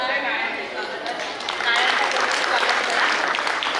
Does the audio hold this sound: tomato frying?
no